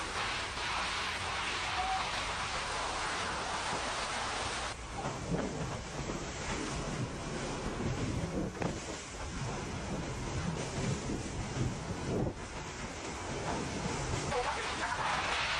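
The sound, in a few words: violent cyclonic storm with strong wind in Barbados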